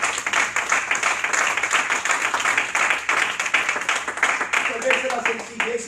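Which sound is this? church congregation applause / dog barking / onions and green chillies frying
church congregation applause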